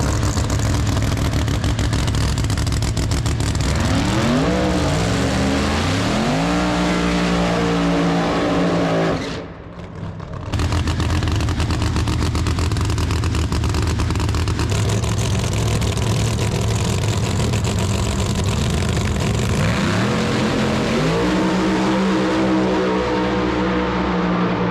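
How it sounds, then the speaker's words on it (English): Drag racing car engine at a street race event running loud and close, rising through rev sweeps and gear-like climbs, with a brief drop to near silence midway before roaring again and revving up late. "the car is running fantastic"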